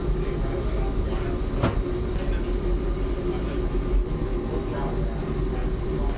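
An Eglinton Crosstown light rail train rumbles steadily along the rails with a continuous low roar and occasional clicks and clanks, fairly close and loud.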